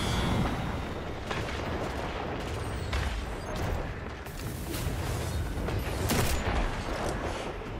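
Shots from the Song of Justice VI scout rifle with high-caliber rounds in a video game sound out among dense, loud battle noise, with repeated heavy bangs over a continuous rumbling roar.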